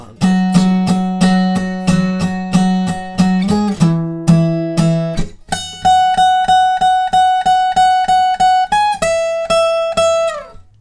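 Plucked guitar plays the riff from Hailee Steinfeld and Zedd's "Starving": a brisk run of repeated low notes, then a jump to higher fretted notes picked in steady repetition, loud and clear with no speech.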